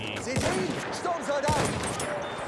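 Rifle fire in a Battlefield 1 match: several booming shots with echoing tails over a busy battlefield bed, with whistling sounds and distant combat around them, moderately loud.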